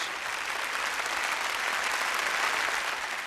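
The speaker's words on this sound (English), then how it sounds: "Please, let's have a huge round of applause as we have Sharad make his way to stage." Steady applause from a crowd, dense and even throughout, with no voices standing out above the clapping.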